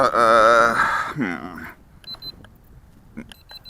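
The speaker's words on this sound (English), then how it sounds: "It beeps when you press in the left stick there." A few short, high electronic beeps from a small radio-control helicopter transmitter sound in quick succession as the left stick is pressed in, after a voice talks, with soft handling noise between them.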